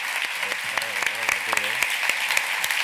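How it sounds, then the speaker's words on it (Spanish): Audience applause for authors Javier Cercas and Lorenzo Silva at the Getafe Negro literary festival, a loud, dense burst of clapping with a voice speaking over it. "Un fuerte aplauso para Lorenzo, para Javier Cercas."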